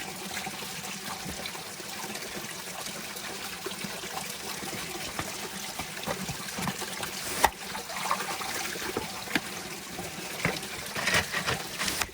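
A small stream trickles and babbles steadily throughout, with a continuous close-up watery wash and a few brief knocks or splashes, no talking.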